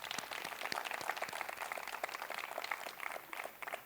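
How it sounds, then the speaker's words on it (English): Steady applause from an audience at a speech event, a dense, continuous wash of many hands clapping at moderate distance, evenly sustained throughout without any speech over it. "So can we have one more round of applause for Mani?"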